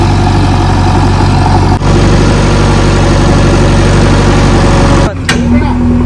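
A JCB excavator's engine runs steadily and loud at close range while pushing stones aside on a farm plot, with a low continuous idle-like drone and a brief dip near the end.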